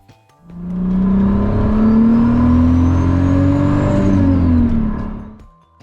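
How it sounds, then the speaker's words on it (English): A turbocharged VR6 engine swapped into a Pontiac Fiero revs up with a loud, growling intake note, rising steadily in pitch with a faint turbo whine on top, then dropping back as the throttle closes. "The intake was finally growling like I was wanting it to do."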